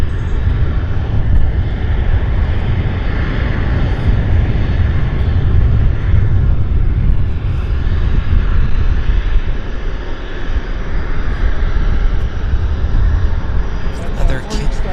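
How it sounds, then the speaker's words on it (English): A WestJet airliner taxis at Vancouver Airport on a windy day, its jet engines giving a loud, steady roar throughout, with wind noise mixed in and a brief rattle near the end. "Westjet taxiing in here."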